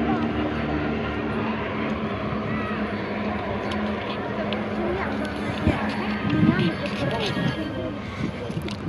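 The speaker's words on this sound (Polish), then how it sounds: "Lecą następne samoloty." Aircraft flying over an air show in Krosno, a continuous engine rumble beneath crowd noise and a person talking nearby.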